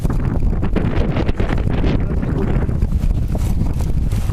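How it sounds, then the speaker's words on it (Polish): Heavy wind at Srebrna Góra in December buffets the microphone in a constant loud rumbling roar, gusting unevenly throughout with no clear voices. "Teraz będzie nam przeszkadzał trochę wiatr,"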